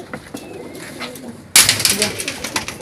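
Pigeons coo softly at close range, then a louder burst of wing flapping and rustling follows partway through, with low cooing continuing underneath.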